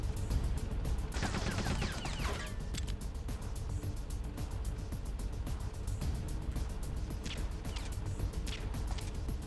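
Gunfire rattles in Metal Gear Solid: The Twin Snakes as shots are aimed at the player: rapid, dense bursts of automatic fire over a constant low rumble, loud and sustained throughout.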